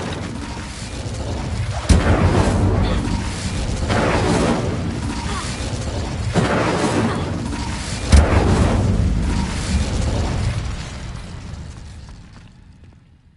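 Blasts from an Incendio fire spell in a Harry Potter game, a series of sharp whooshing bursts followed by roaring, crackling rumbles that swell and fade over several seconds, near and loud, with occasional voices.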